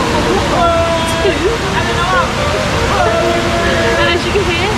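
A second waterfall in Lombok roars with steady rushing water, a loud continuous wash, while people's voices and calls carry over it nearby.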